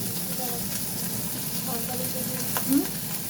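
Pasta fries with spices in a pan in a home kitchen, a continuous close sizzle and hiss with light stirring noises and a brief louder spit near the end.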